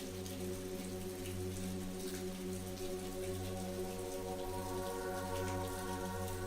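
Soft rain patters in a park, a gentle, steady drizzle of drops heard faintly under a low, sustained musical drone.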